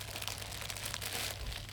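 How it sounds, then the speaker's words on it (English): Plastic bags holding model kit sprues being opened and handled, a steady soft crinkling and rustling of thin plastic close by, continuous throughout with no talking. "So, we'll open these ones up. They all come in a nice little plastic baggie"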